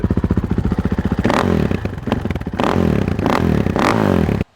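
A KTM 500 motorcycle fitted with a Rocket slip-on exhaust revs loudly up close, starting with a fast idle putter and then breaking into repeated sharp throttle blips that rise and fall, before cutting off abruptly.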